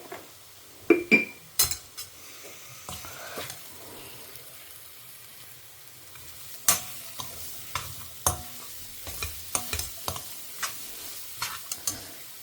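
Mango rice mixture sizzling in oil in a pan, a soft background fry punctuated by many irregular clinks and scrapes of a spoon stirring against the vessel, some louder than others.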